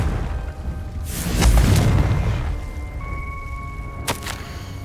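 A Confringo spell blast goes off in the Hogwarts Legacy video game, a single deep booming burst that swells and fades over a couple of seconds, followed later by a sharp crackling pop and a faint tonal hum.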